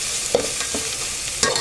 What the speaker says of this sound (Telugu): ఆయిల్లో ఇలా వేసుకొని ఫ్రై చేసుకోవాలి.